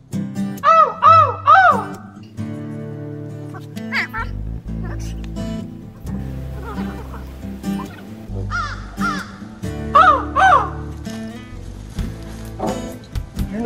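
Crows cawing outdoors beside someone working on a 1952 Chevy pickup, several harsh caws in bursts at the start and again near the end, with a voice imitating and answering them between calls.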